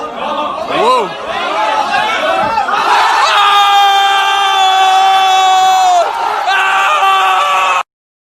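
A crowd cheers and whoops loudly in a played clip, with sustained shouting and high tonal screams swelling after a few seconds and holding steady until an abrupt cutoff, voices mixed throughout.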